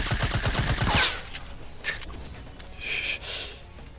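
Gunshots in the Fortnite battle royale video game: a rapid burst of loud shots at the start, then quieter game sounds and a couple of whooshing bursts later.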